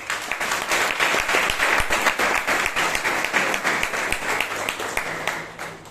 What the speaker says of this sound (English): Let's give them also a huge round of applause.